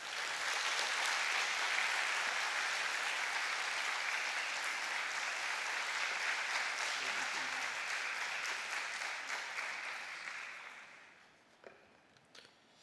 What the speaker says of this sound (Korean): 오늘 여러분 나오실 때 큰 환영의 박수를 해주시기를 바랍니다